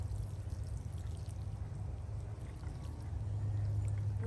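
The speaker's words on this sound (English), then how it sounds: "Water this thing good." Freshly sown seeds in a Florida garden are watered with a steady pouring splash, close and continuous. The flow grows a little heavier toward the end.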